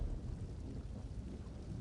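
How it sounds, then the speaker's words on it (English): Rain and rumbling thunder in the Elder Scrolls Online video game, a low continuous roll of thunder under steady rainfall hiss, brief and moderately loud with no voices. "Cool rain on my scales."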